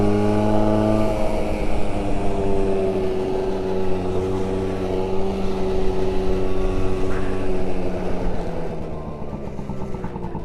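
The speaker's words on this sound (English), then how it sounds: "Also love the sound of a two-stroke." A 1983 Honda Motocompo two-stroke scooter engine runs steadily at a constant, buzzy pitch, close and loud throughout with a slight dip near the end.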